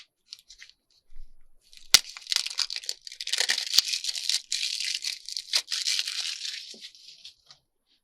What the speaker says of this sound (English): Look, I'm opening new trims even.